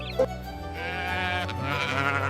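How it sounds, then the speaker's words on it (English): A sheep bleats in a farmyard setting, a single sustained wavering bleat that carries on for a couple of seconds, fairly close and alone with no talking. "The sheep says bah."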